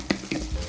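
Green onion and garlic stir-frying in a pan: brief soft scrapes of a utensil against the pan over a low sizzle, close and short.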